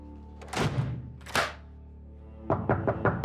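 Knocking on a door indoors: two heavy, separate thumps, a pause, then a quick run of four or five sharper knocks close by.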